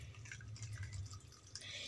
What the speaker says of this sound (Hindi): ये जो हमारा छेना का है ना पानी, इसको इसमें स्ट्रेन कर लेंगे